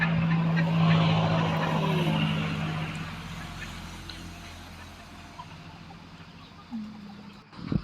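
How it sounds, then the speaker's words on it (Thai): Bantam chickens cluck and murmur close by, out scratching in the dirt in the evening after rain, over a low background hum, with the calls fading and a short squawk later on. "เป็นการพาไก่ออกมาเล่นดินนะคะ"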